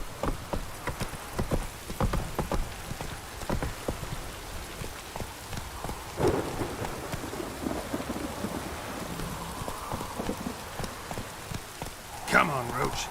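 Hooves of Roach, a horse in The Witcher 3, clip-clop in a steady galloping rhythm through steady rain, with rumbles of thunder in the background and a brief louder burst near the end.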